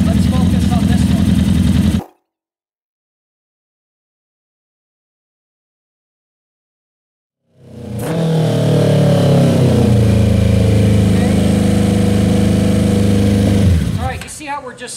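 Motorcycle engine idling and revving loudly while its carburetor throttle bodies are synced, cutting out abruptly to silence for several seconds, then restarting and running steadily with a rough, shifting tone.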